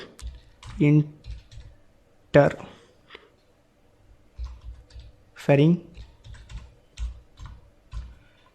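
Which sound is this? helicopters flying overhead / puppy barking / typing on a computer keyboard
typing on a computer keyboard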